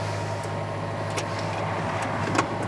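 A car engine idles steadily just after starting, a low, even hum with a faint tonal drone underneath and a few light clicks and rattles on top.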